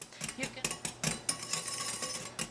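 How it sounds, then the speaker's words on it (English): A whisk clinking rapidly against a bowl while mixing flour, baking powder, salt and sugar: quick, irregular metallic taps and scrapes, steady and close, with no voices. "I'm just going to whisk this for a good 3-4 minutes."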